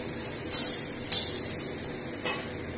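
Eggplant frying in mustard oil in a pan, a soft sizzle punctuated by two sharp metallic clinks of a utensil and a fainter third one, close and without talk.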